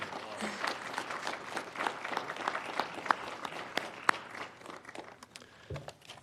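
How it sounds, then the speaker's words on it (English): Scattered, moderately faint applause from an audience at a county opioid council youth awareness event, individual claps standing out over a light crowd murmur, with a few louder sharp claps. "About a huge round of applause."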